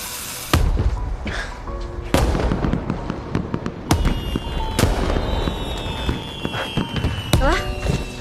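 Leftover fireworks set off outdoors: a string of sharp, loud bangs and crackling bursts at uneven intervals, with whistling rockets that rise and trail off in between.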